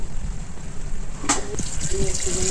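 Water gushes and splashes steadily into a cooking pot of beef and potatoes, a continuous liquid rush with a brief clink partway through; someone speaks over it.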